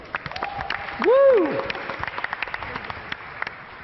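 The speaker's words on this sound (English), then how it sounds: "round of applause for Sneak Peek" Audience applause at a startup pitch competition on stage, clapping swelling briefly after a loud whoop and continuing as a moderate patter under a host's voice.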